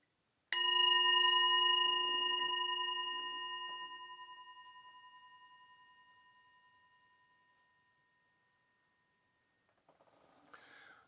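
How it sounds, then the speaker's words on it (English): A single clear bell is struck once and rings out with a bright, sustained tone that fades slowly over several seconds into silence before a faint rustle. "I'm going to ring the bell. I'm going to ask you to listen carefully."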